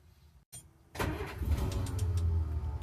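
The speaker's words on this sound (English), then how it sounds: "Little tap on the gas pedal, and it starts right up." A 1953 Hudson Hornet engine cranks briefly and catches right away, settling into a steady, close idle rumble.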